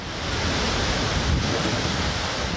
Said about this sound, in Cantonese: 東文都洛省雨勢猛烈，強風將樹木吹到左搖右擺。